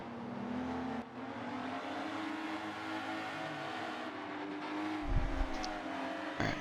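Race cars on a warm-up lap at the Catalunya circuit in a racing video game, a continuous engine whine holding steady with slight pitch shifts and a brief louder burst near the end, no talking.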